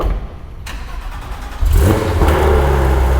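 A Porsche GT3 RS fires up during a tire change: a quiet moment, then the engine catches abruptly with a loud burst and settles into a strong, steady idle close by.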